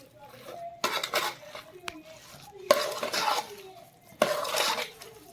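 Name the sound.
stirring cooked rice with coriander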